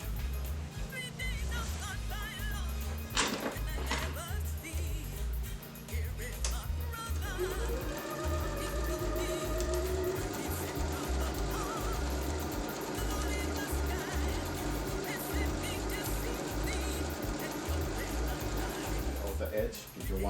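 A sewing machine stitches twice along the brim of a bouffant hat, producing a fast, regular low thumping rhythm that runs steadily for about twenty seconds, with a person talking over it.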